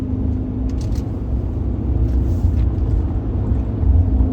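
2025 Ford Maverick Hybrid on oversized tires merging onto an interstate: steady loud low road and engine roar from inside the cabin, with tire rumble building slightly toward the end and no talking.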